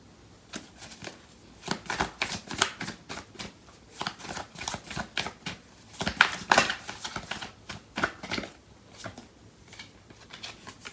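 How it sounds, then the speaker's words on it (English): Tarot cards being shuffled and drawn from the deck in a steady flurry of close, papery riffling and flicking, with brief pauses between bursts and no talk over it. "So I'm going to pull out some more cards."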